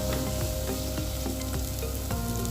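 Chili powders are stirred in a hot frying pan, with a constant sizzle under repeated scraping strokes of a spoon against the pan at a steady rhythm.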